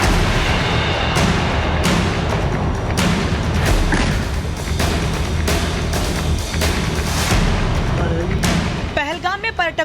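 Explosions blow up the house of terrorist Asif Sheikh after the Pahalgam attack: heavy, booming blasts and rumbling debris roll on continuously while a voice talks over them throughout.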